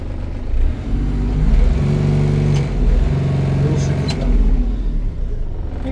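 A Kubota KL345 high-speed tractor engine pulling away in second gear with a steady low rumbling drone, close and fairly loud, while someone talks over it.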